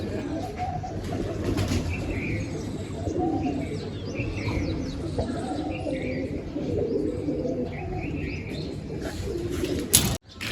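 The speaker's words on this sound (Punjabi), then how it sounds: "ਆਪਣੇ ਦੋ ਕਬੂਤਰ ਆ ਜਿਹੜੇ ਛੱਡਣੇ ਆ" Two released pigeons coo steadily over a busy backdrop of bird chatter at a pigeon-flying contest, with bursts of flapping wings and a sharp clatter near the end.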